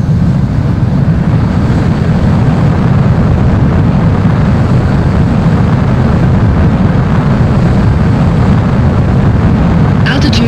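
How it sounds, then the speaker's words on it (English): Fighter jet engines roar loud and continuous during takeoff in an Ace Combat game, a dense wideband rush of jet thrust that holds steady throughout. "Mobius One, you are cleared for takeoff."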